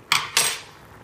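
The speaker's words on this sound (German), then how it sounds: "Das Ganze nochmal richtig gut umrühren." A spoon knocks twice against a pot while soup is stirred, two quick, fairly close metallic clanks with a short gap between them, then quiet.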